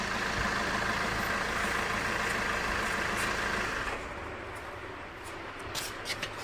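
A Maruti Suzuki Ciaz engine runs steadily with a continuous low rumble while a wheel rotates, after a wheel bearing repair, dropping to a quieter idle partway through, with no voices.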